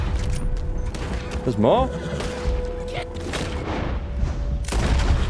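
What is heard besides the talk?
gunfire in the video game Red Dead Redemption 2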